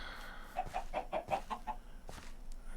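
Chickens in the Minecraft modpack SevTech Ages, a quick run of about seven soft clucks in steady rhythm, fairly faint and close, followed by a couple of scattered clicks.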